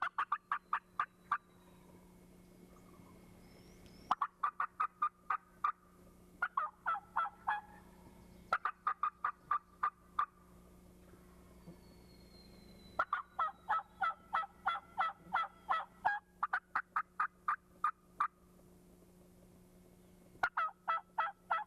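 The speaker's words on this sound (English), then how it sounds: "Rudy Fusco, we used scratching in the leaves and clucking and purring to make that gobbler think there was a flock of feeding hens close by" Wild turkey gobbler, answering hen calls in a spring woodland, gobbles in rapid rattling bursts again and again, fairly close and clear over a faint steady hum, with short pauses between each volley.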